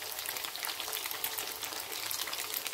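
Thai fish cakes frying in shallow oil in a pan, a steady, close crackling sizzle with dense spitting pops running throughout, no voices.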